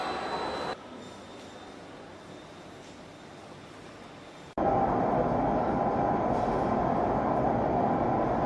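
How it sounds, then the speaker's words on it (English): A Beijing to Shanghai high-speed bullet train gives a steady, even rumble that jumps abruptly to a louder, fuller roar about halfway through. "new bullet trains for the Beijing to Shanghai high-speed rail line have been unveiled"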